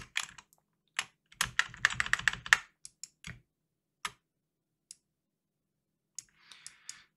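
Computer keyboard keys clatter in a fast burst of typing, then a few scattered single presses follow with pauses between, close and clear, with no voices.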